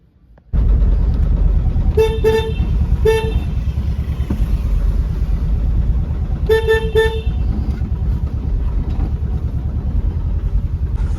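A small tempo-type vehicle running with a steady engine rumble throughout, after a sudden start, while a horn sounds in two quick double toots.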